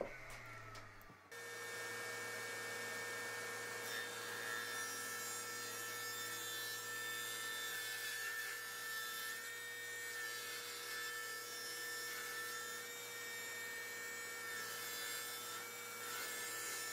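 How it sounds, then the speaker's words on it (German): Wooden strips being sawn to 40 mm wide and 1 m long for a DIY garden gate: a steady, continuous, close sawing drone that starts after about a second of quiet and runs evenly to the end. "Meine Leisten säge ich hier auf 40 mm Breite und 1 Meter Länge."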